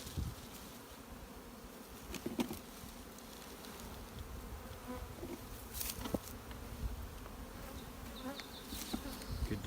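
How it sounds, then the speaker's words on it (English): Honeybees buzz loudly and continuously as they are shaken off a hive frame, forming a dense close swarm hum with a few sharper bumps and knocks. "So we'll just shake the bees off."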